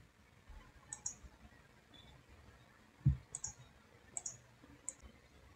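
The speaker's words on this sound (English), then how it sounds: "I'll click on apply." Computer mouse clicks while operating ANSYS simulation software, a few sharp, faint, close clicks spaced irregularly, with one soft thump between them and no talking.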